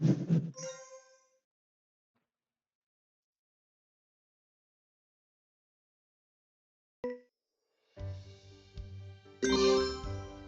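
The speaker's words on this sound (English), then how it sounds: "There's a bell right there." A single bright bell ding from a Pogo hidden-object video game rings out clearly at the start and fades, followed by silence and then other short game chimes and tones.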